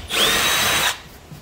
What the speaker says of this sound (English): now we're gonna drill this out to our 1/4 inch